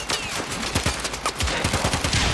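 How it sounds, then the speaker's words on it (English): Rapid, uneven bursts of automated weapon fire in the video game Warframe, a close crackling chatter of shots firing repeatedly without pause. "it's just shooting at stuff"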